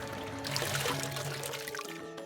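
Water trickles and pours over stones in a small flowing stream, a close, steady splashing and gurgling wash with no voices.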